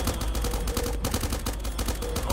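Gun turrets blast away at a boss in the video game Starbound, producing loud, rapid, continuous bursts of gunfire that run back to back for the whole stretch.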